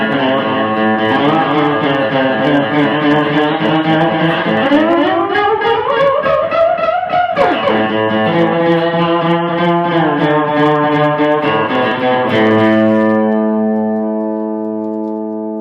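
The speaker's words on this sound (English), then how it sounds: "I'll bet you haven't heard a lot of electrified diddley bows before." An electrified diddley bow with a thick-gauge string and a banjo tuner drones through distortion and echo, its pitch sliding up and down in long bends before settling into a sustained, feedback-tinged tone that fades at the end.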